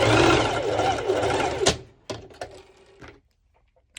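A sewing machine runs a basting stitch along color-block binding on bikini bottoms for pole dance wear, a steady close whir for under two seconds, then a few sharp clicks and knocks before quiet.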